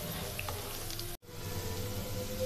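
Chopped garlic and ginger sizzle in a pan over low heat with a steady, fairly soft frying hiss that drops out for a brief moment before resuming.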